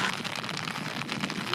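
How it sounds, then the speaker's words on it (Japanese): Heavy rain falling at Awaji Hanasajiki flower fields in Hyogo, Japan, a dense steady hiss of downpour with no pauses. "雨すげー降ってる。"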